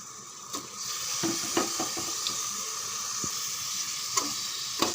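Chicken pieces tipped into hot oil with biryani masala, giving a steady close sizzle and frying hiss, punctuated by a few soft clicks and scrapes of a spoon against the pan.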